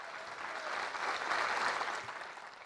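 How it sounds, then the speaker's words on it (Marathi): Audience applause at a live Marathi stand-up comedy audience-interaction show, a steady burst of clapping from a seated crowd that swells in the middle and tapers off toward the end, with no talking. "अरे टाळ्या वाजवा की"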